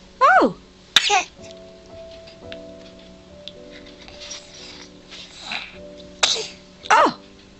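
A baby lets out several short sneezes, two close together at the start and two more near the end, with a steady background tone and faint voices between them.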